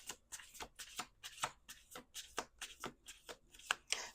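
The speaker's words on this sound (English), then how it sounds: "Two more shuffles." A deck of cards is shuffled by hand in quick, rhythmic riffles, about a dozen crisp bursts close to the microphone at a quiet level, with no talking.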